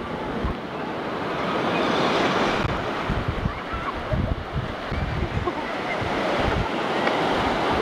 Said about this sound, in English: Why can't I take a palm tree home with me to remind me of those waves, they coming up right now.